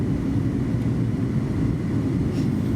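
Steady, loud airliner cabin drone during a long flight over the Gissar mountains between Uzbekistan and Tajikistan, a constant low engine and airflow rumble with no talking.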